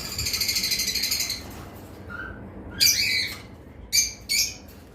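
Cockatiels and conures kept as breeding pairs call close by, giving a rapid, pulsing squawk, then a short chirp and several harsh, loud screeches over a soft background hiss.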